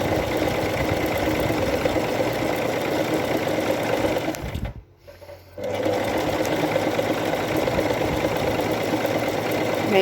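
A sewing machine with a rolled hem foot stitching fabric, a fast steady mechanical whir that runs loud and close, cutting out for about a second midway before resuming.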